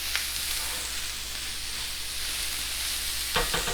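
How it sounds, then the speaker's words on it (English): Beef, onions and green peppers sizzling in a skillet give off a continuous loud frying hiss, with a brief burst of stirring scrapes near the end. "we're going to add our beef back into the pot, or I guess back into the skillet. Give that a quick stir around."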